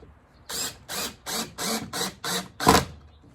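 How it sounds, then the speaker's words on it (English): Ratchet tightening a bolt in the middle of a restored ship's wheel, seven evenly spaced rasping clicks up close, the last one louder, with no talking. "Bolt it down in the middle."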